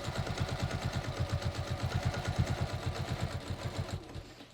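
A sewing machine stitches a seam through denim with steady, rapid rhythmic clatter close by, running continuously for about four seconds before stopping abruptly.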